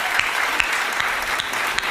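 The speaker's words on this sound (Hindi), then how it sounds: "आप लोग जोरदार तालियां बजाकर उनका सम्मान करें" A crowd applauds at a Teachers' Day poetry gathering, an even, sustained clapping with a few sharper claps standing out.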